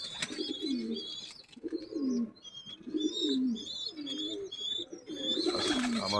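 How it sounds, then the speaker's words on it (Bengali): A dove in a yard with pigeons gives soft, low, repeated coos in a steady rhythm, about five close calls, mixed with chirps and twittering from other birds. "এই যে ঘুঘু এসেছে"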